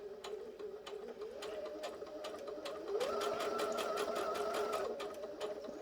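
A Bernette B77 sewing machine back stitches a seam with a quick mechanical whirr and rapid needle ticks, pausing briefly before speeding up again, close and fairly quiet.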